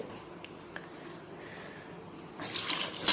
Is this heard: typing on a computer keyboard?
no